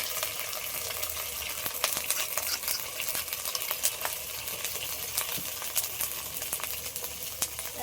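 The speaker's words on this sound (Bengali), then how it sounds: "টক দইয়ের সাথে যে মশলাটা বানিয়ে রেখেছিলাম এই মশলাটাও দিয়ে দেবো" Ginger-garlic paste and a yogurt-based spice mix frying in a pan for cauliflower biryani, with a steady sizzle and scattered clicks of stirring throughout, no voices.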